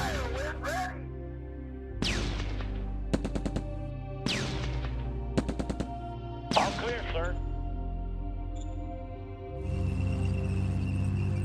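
Video game gunfire comes in several short automatic bursts of sharp rapid cracks, separated by sweeping whooshes and tonal swells, close and fairly loud, with someone talking briefly between volleys.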